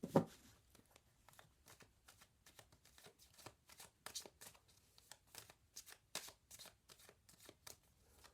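Tarot cards are shuffled by hand in a quick series of crisp, papery riffles and soft slaps that repeat in short bursts, close up and fairly quiet, with no voices.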